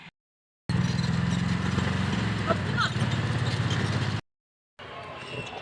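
A Mahindra three-wheeler auto-rickshaw engine chugs steadily on a road in Bangladesh, a loud, even mid-range drone with a rapid pulsing rhythm, broken by two short dropouts.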